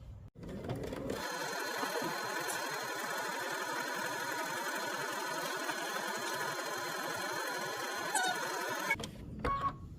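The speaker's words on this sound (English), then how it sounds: "we're going to go ahead and take this to the machine and stitch around the perimeter of" A sewing machine stitches steadily for about eight seconds around the edge of a fabric pocket, its motor whirring at a constant, close and fairly loud pace, then stops.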